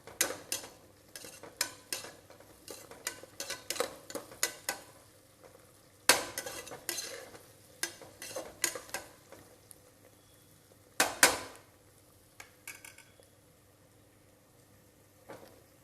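Capsicum and green chilies fry in a pan while a spoon stirs them, bursts of scraping and clinking against the metal coming in irregular clusters over a faint sizzle, with no one speaking.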